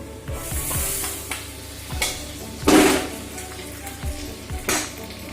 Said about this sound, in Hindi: अब मैं इसमें पहले हल्दी डाल देती हूँ, फिर मिर्ची पाउडर डाल देती हूँ